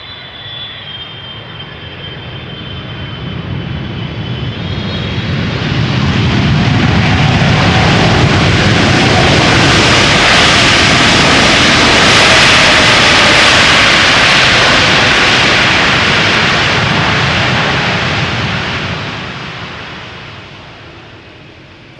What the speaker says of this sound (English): Qatar Cargo 777 arriving from Chicago, 777 freighter